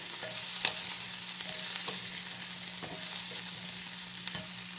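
Cumin seeds fry in hot oil in a pan for chicken pepper fry, giving a steady, close sizzle with occasional scrapes and clinks of a stirring spoon; no one speaks.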